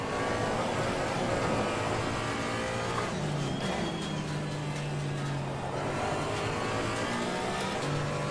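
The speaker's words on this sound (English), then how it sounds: "And another GT3 car." A GT3 race car engine in Assetto Corsa Competizione on a wet Zolder circuit, a steady loud drone that rises and falls through gear changes, with another car's engine passing close by mid-run.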